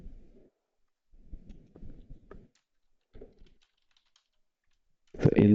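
Fingers type an SQL query on a computer keyboard in short bursts of soft key clicks separated by pauses, ending with a sharper, louder cluster of keystrokes.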